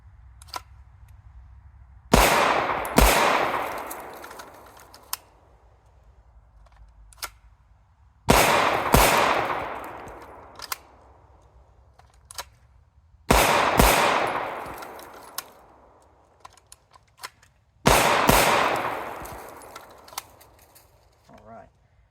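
A handgun is drawn from the holster and fired during recoil practice on an outdoor range: four loud bursts of two or three quick, sharp shots each, separated by quiet pauses of several seconds.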